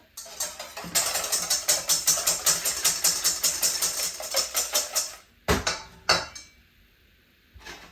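Eggs whisked together in a bowl, a fast run of rhythmic clinking strokes close up for several seconds, then a few separate taps and a pause.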